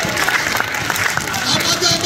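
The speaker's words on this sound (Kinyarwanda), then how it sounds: "tuyikomera amashyi" A church congregation claps together in a dense, steady burst of applause, loud and close, with voices murmuring underneath.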